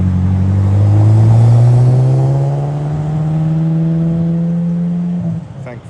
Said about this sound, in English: Thankfully it's not stock either, so it actually makes a noise